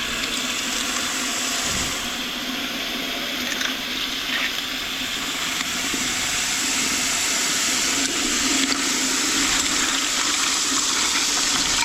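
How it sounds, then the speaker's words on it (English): Seashells from the Gulf side of Pass-A-Grille are rinsed in water after a bleach soak, giving a steady, close, loud rush of running water with no talking. "I'm going to go ahead and rinse things out and see what we have."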